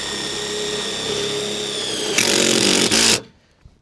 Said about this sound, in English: We need to put a self-tapping screw through the batten strip and into that joint to keep the roll bar from spinning.